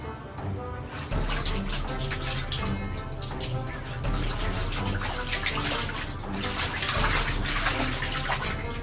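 Water splashes and churns continuously in a pool, steady and fairly loud throughout.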